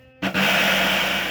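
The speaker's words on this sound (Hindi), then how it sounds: "इसको मिक्सी में पीस सकते हैं जल्दी से जल्दी" A mixer grinder kicks on abruptly after a moment of quiet and runs with a loud, steady whirring grind while grinding rice, no voices.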